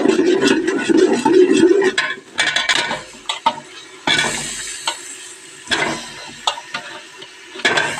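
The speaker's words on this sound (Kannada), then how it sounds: "ಇವಾಗ ಉಪ್ಪು ಹಾಕಿದ ಮೇಲೆ ಇದು ಮಸಾಲೆನ ಚೆನ್ನಾಗಿ ಫ್ರೈ ಮಾಡಬೇಕು" Masala sizzling and frying in a pan for mutton sambar after salt is added, with steady crackle and repeated scraping and stirring clinks of a utensil against the pan, close and fairly loud.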